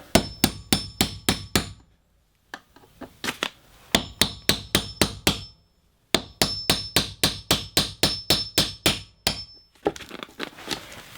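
A hammer drives a nail punch into pine paneling in a tiny house, bursts of five to eight sharp ringing metallic strikes in quick even rhythm, separated by brief pauses, loud and close.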